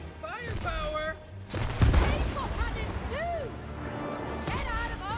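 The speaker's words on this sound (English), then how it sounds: "Fire the cannon!" Cannon fire in the It Takes Two video game: a heavy booming blast amid game effects and whistling projectiles, with two players talking excitedly over it.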